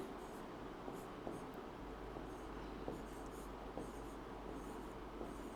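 Pen writing on paper while a maths exam problem is worked through, a quiet, steady scratching with small periodic strokes, close and alone with no talk.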